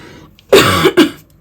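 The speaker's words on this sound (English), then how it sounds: "my apologies about the coughing, I am sorry." A woman coughs close up indoors, two sharp bursts in quick succession with silence around them.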